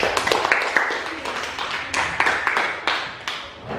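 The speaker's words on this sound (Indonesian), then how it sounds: "Kita beri tepuk tangan ke kelompok 2." Scattered classroom clapping from students applauding a group after its presentation, uneven bursts of individual claps rising and fading over a few seconds.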